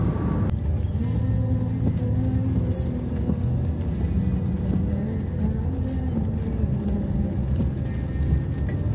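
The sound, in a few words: car accelerating on toll road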